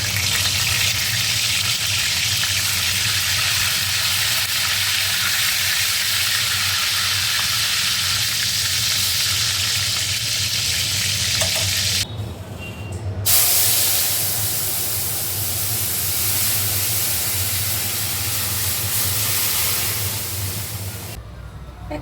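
Eggplant pieces fry in a pan with a loud, steady sizzle and hiss that runs almost throughout, with a brief drop at one point and a short break near the end. No one speaks.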